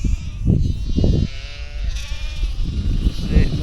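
Several sheep bleat close by on an Australian farm during lambing-season feeding, with a wavering harmonic cry in the middle between rougher low calls, steady and fairly loud throughout.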